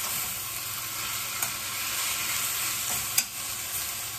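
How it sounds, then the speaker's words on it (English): Onions with salt sauté in a pan for chorizo con huevos, giving a steady close sizzle with a couple of brief stirring clicks. "So all I'm doing is letting it brown, just sauteing."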